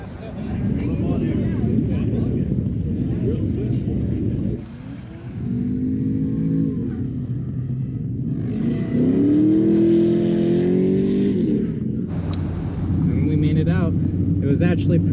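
A hot rod car engine with a freshly cleaned carburetor idles roughly and is revved repeatedly, a loud close rumble rising and falling, with someone talking over it at times.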